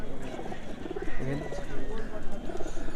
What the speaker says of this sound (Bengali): কবুতর এখন পায়ে দড়ি বাঁধা হলো